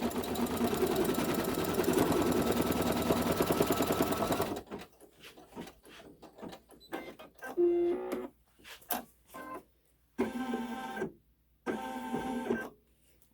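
An embroidery machine stitches a placement line on stiff layered white fabric, starting with a loud continuous motor whir, then stitching in short rhythmic bursts separated by pauses.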